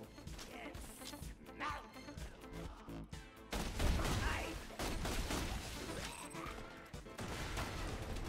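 Dense, rapid gunfire from a weapon in the Borderlands 2 video game, a busy mix of shots and crashing impacts running the whole time under game sound.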